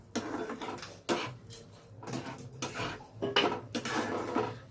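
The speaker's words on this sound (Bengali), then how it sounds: "এবারে আমি দিয়ে দিচ্ছি কড়াইশুঁটি। কড়াইশুঁটিটা এবার এর সঙ্গে ভালো করে নেড়ে নেব" Green peas are stirred in an oiled kadai, giving a run of scraping, clattering strokes of a spatula against the metal wok, close and fairly loud with irregular bursts.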